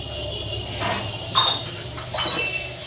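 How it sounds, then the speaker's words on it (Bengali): Dishes being washed at a sink: a few soft clinks and knocks of pots and utensils over a low running-water wash, close and moderately loud, with no talking. "ঠাকুর বাসন ধুচ্ছে"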